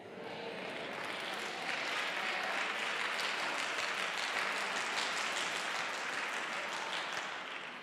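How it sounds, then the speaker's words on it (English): Sustained applause from a church congregation at a bishop's sermon, a dense wash of many hands clapping steadily for several seconds, swelling slightly and continuing without talk. "I thank God all them guys back there clapping."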